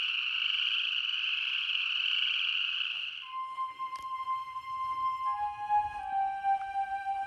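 A thriving colony of toads in Makoshika State Park, Montana, fills the air with a dense, loud trilling chorus for about three seconds, then falls quiet, leaving only faint thin high tones.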